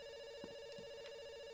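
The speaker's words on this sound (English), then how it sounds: "Yeah, it's ringing. It's still ringing." A telephone rings with a steady, sustained electronic tone in the Dr. Langeskov, The Tiger, and The Terribly Cursed Emerald game, faint and even, with a few soft background noises and no talking.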